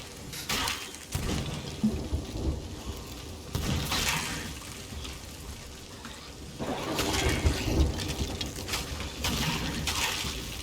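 Steady drizzle of rain in the Sea of Thieves video game, a continuous soft hiss and patter with surges in intensity and no talk.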